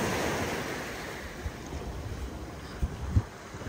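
Calm ocean waves on a secluded, relatively untouched beach in South Goa, heard as a steady soft wash of surf with light wind noise and a few faint thumps, and no talk.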